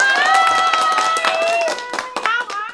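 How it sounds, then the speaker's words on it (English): A small group claps in quick, close bursts with a tonal voice sustained over the start. Casual talk follows, and the clapping turns scattered and uneven toward the end. "we're gonna do some applause"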